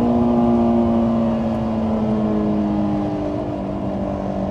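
A Honda S2000 engine pulls steadily under throttle on a partly wet race track, a sustained close drone with layered harmonics that barely shifts in pitch across the stretch, with no talk over it.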